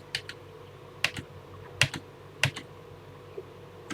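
Typing on a computer keyboard: a few scattered sharp key clicks, some in quick pairs, close and moderately quiet over a low background hum.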